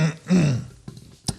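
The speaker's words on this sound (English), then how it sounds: "Sorry, I had to clear my throat." A man clears his throat close up with a low, guttural rasp and a couple of short rough grunts, followed by a brief sharp sound at the end.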